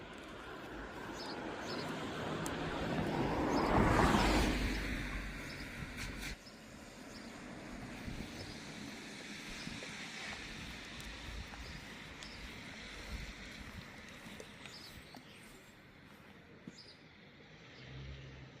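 A car passes on a quiet mountain road near a closed ski resort in Arosa, Switzerland, swelling to a soft whoosh and fading into distant ambient hum.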